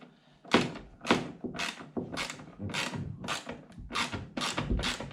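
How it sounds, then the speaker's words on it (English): Bolts being removed from the dash of a Mazda B-series pickup with a ratcheting tool, about ten sharp, loud mechanical bursts in an even rhythm, each a short grinding clatter, heard up close. "we're going to get the 3 bolts"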